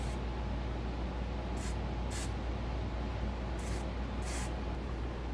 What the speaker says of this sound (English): it's always a good idea to hit it with some PB Blaster